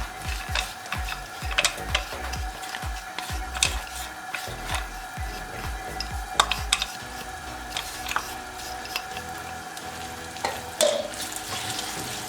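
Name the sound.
ground walnuts roasting in ghee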